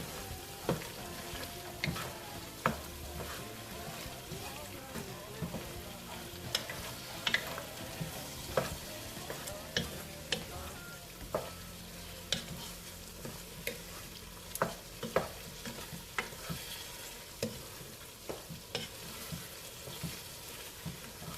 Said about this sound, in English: I'm going to give that a stir.